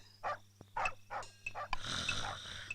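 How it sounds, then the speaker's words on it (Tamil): A dog barks in several short bursts from a movie scene, then a burst of louder, noisier sound follows, with steady hum underneath. "என்னப்பா நாய் எத்துது?"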